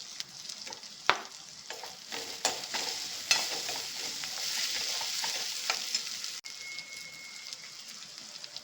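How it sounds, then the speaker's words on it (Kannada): Green chillies fry in a pan with a paste, giving a soft continuous sizzle broken by scraping stirs and a few sharp clacks of a spoon against the pan, close and fairly quiet with no speech. "ಇದು ಚೆನ್ನಾಗಿ ಹಸಿ ವಾಸನೆ ಹೋಗೋವರೆಗೂ ಫ್ರೈ ಮಾಡ್ಕೊಳ್ಳೋಣ."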